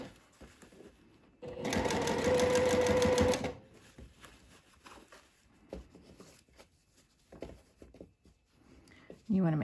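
A sewing machine stitches a seam on a floral sundress in a loud, steady burst of about two seconds, then stops, leaving quiet handling noises and faint talk around it.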